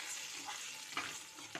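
Cumin seeds and roasted chana dal fry in a spoonful of oil, a soft steady sizzle with a couple of sharp scraping stirs near the end, close and quiet.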